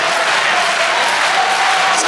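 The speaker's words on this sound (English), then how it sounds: "Everybody clap your hands." A crowd claps steadily at a North Carolina A&T Aggies college basketball game, a dense, continuous wash of hands filling the arena without pause.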